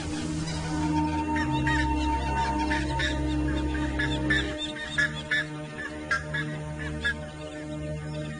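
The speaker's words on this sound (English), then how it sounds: "is cause for a lot of squawking and screeching from the bird population." Wild birds squawk and honk in a noisy, overlapping chorus as they mob an anaconda. The calls come harsh and repeated over a steady outdoor background, with no one talking.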